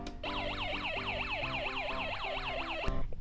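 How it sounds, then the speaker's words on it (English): A Snap Circuits Jr toy police siren wails in a fast, regular up-and-down sweep, loud and close to the microphone, repeating about a dozen cycles before cutting off abruptly. "It's a light police siren."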